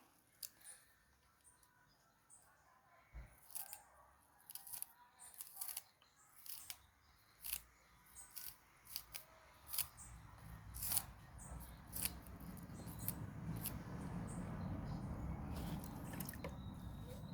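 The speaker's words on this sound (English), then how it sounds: "I'll cut up the scallion and pan it now" A knife chops scallion on a board while a Jamaican ackee and saltfish meal is being prepared, making a steady series of close, crisp cuts that give way to a rising background hiss toward the end; no one speaks.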